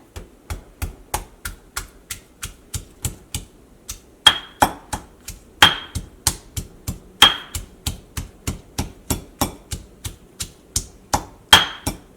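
Steady rhythmic pounding, a pestle striking a mortar again and again, crushing shallots, ginger and chillies with loud, close, evenly spaced thuds and occasional sharper knocks.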